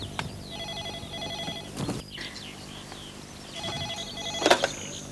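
An indoor telephone in a Hindi telefilm scene rings in two clear bursts, one at the start and another near the end, loud and close with a quiet pause between.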